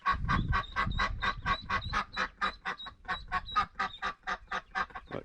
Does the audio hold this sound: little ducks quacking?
yes